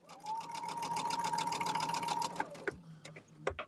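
A sewing machine stitches a quilt block for an Alice in Wonderland sampler quilt in one steady, fast, close run of needle strokes lasting about two and a half seconds, then stops, leaving a few soft handling clicks.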